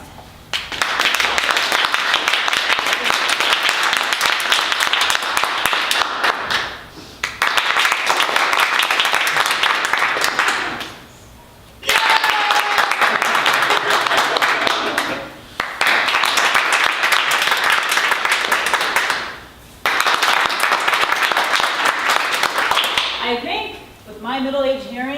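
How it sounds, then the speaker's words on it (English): Audience at a writers' reading night at Malvern Books in Austin claps in four or five loud, dense waves separated by brief lulls, with a voice speaking near the end. "by the sound of your applause"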